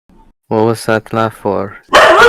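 A dog barks several times in quick succession close to the microphone, with louder, noisier yelping at the end and a voice speaking just before.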